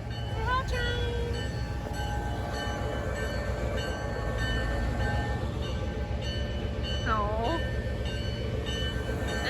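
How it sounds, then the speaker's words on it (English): A train rumbles steadily nearby through the town of Blue Ridge, Georgia, with a low continuous roar, a few short horn or squeal tones rising over it, and a brief exclamation from a person. "Here's the train's coming in."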